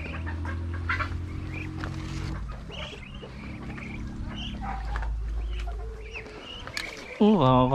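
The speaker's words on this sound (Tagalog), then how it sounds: "Check natin yung ating mga manok." Chickens cluck and squawk near the listener in a busy farmyard in the Philippine countryside, with brief harmonic calls overlapping and a sharper rising cry at the end.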